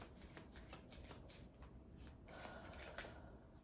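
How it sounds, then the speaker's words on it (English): Tarot cards shuffled close up in repeated quick riffling bursts, a soft papery rhythm that keeps going, very quiet and intimate, with no voices. "shuffle these cards"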